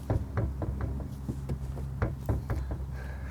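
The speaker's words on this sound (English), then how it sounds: "when you try to use that same slight push to close the heavy doors in this thing" Heavy door of a 1996 Rolls-Royce being pushed without latching: a series of dull knocking thumps, several light repeated impacts spread across the clip, near and moderately loud with no talk.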